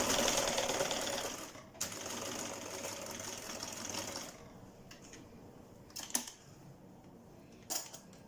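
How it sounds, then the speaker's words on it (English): A sewing machine understitching a trouser seam runs in a fast, steady close whir for about four seconds, then stops, leaving quieter handling sounds and a couple of sharp clicks. "So I'm just going to understitch this more or less the same place that I had sewn before."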